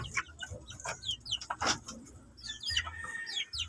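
Chickens in a backyard coop cluck and chatter in short overlapping calls, soft and fairly close, with faint rustling and wing movement among them and no talk.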